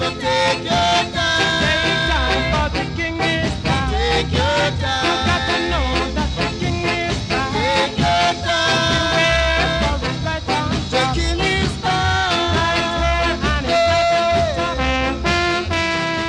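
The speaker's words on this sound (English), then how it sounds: "Ska is fast-tempoed with horns and upbeat rhythms." Upbeat ska tune with bright horn lines over a steady offbeat rhythm and walking bass, full and loud throughout with no voices.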